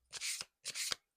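Two quick riffle shuffles of a deck of tarot cards, each a soft, papery whirring burst lasting under half a second, close and fairly quiet.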